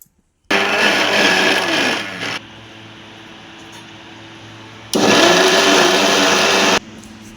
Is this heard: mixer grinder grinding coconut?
yes